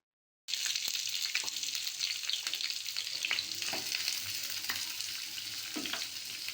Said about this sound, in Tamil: வெங்காயம் கோல்டன் ப்ரௌன் ஆகிற வரைக்கும் நல்லா வதக்கி விட்டுக்கலாம்.